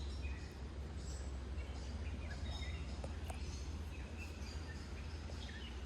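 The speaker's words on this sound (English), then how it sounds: "just listen to the birds" Birds chirp and sing in the woods beside a stream, scattered faint calls over a steady low background hum, quiet and distant, with no talking.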